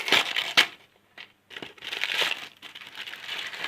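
Firecracker packaging being unwrapped up close, with crinkly plastic and paper rustling in several short bursts separated by brief pauses, and no talking.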